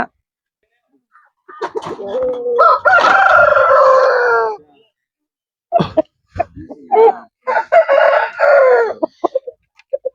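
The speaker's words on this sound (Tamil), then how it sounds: "இது ஒரு கிளி கொண்ட சேவல் தான் பாருங்க எப்படி இருக்குன்னு பாருங்க" A loud parrot-beaked fighting rooster crows close by in a long, strained call, followed by shorter clucks and another rising crow, with some throaty sounds mixed in.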